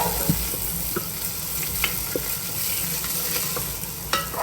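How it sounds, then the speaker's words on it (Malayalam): Carrots sauté in a pan with curry leaves, a steady moderate sizzle broken by scattered spoon scrapes and light clicks as they are stirred, with no talking. "ക്യാരറ്റ് നന്നായിട്ടൊന്ന് മിക്സ് ചെയ്ത് കൊടുക്കാം"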